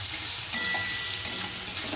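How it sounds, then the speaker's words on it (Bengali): Onions browning in a pan for a Bengali mutton curry, a steady soft sizzle and fry hiss running throughout, with a few brief louder crackles or stirs near the pan. "পেঁয়াজটা একটু লালচে করে ভেজে নেব"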